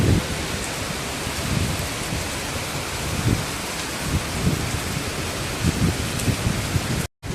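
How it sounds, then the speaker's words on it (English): Heavy rain pours steadily at a renovated pagoda site in Kaohsiung, Taiwan, a dense, loud hiss of drops on surfaces with low rumbling, running unbroken until a sudden cutoff at the end. "I guess we'll be here for a while until the rain stops."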